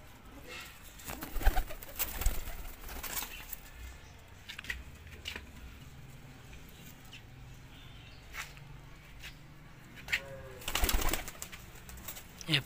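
Golden Teddy pigeons coo softly in a loft, with low burbling calls and occasional wing flutters and rustles, while people talk faintly in the background.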